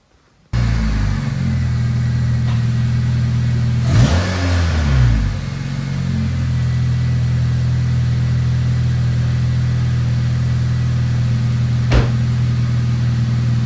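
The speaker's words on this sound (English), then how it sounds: "Now let's put the cap back on. And we can start it up." A Honda Civic engine cranks and catches after an oil change, revs briefly, then settles into a loud, steady idle with a low hum close by.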